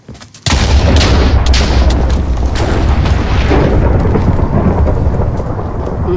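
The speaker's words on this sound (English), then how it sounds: "Thunderstorms." Thunder from a thunderstorm in the Minecraft video game, with rain. After a brief quiet start, a heavy, loud rumbling roar booms in and holds steady, with crackling strikes over the steady rain.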